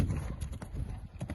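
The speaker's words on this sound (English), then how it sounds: "so Devon, let's see if we can get a canter transition right here" Horse hooves clip-clopping on an arena surface as a horse moves into a canter on a circle during a riding lesson, with a steady rhythmic beat of soft, fairly close footfalls throughout.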